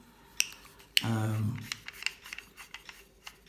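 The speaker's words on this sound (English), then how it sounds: "As you can see, you screw it to a tripod stand." Aluminum alloy reach pole extension bar being screwed onto a tripod stand by its 1/4 inch thread: a short close scraping rasp of threads turning, with a few faint clicks and taps around it.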